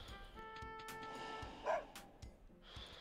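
A puppy in Petz: Dogz 2 gives short, high yips and barks over steady game background music with chiming tones.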